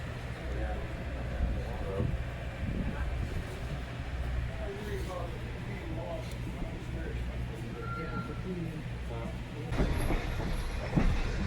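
Blue Ridge Scenic Railway passenger train ride, a steady low rumble of the moving cars with faint clatter throughout, as people talk nearby over the continuous rolling noise.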